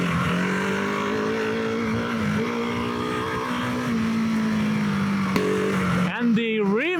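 A KTM 690 Enduro R single-cylinder motorcycle with a Remus exhaust being ridden, giving a steady droning engine note with small rises in pitch and a short burst of revving near the end.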